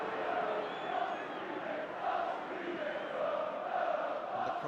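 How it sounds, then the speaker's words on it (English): Arsenal football crowd on the North Bank chanting during a match against Manchester United, a dense, sustained roar of massed voices at a distance, rising and falling slightly without pause. "the cry from the North Bank is Arsenal reject"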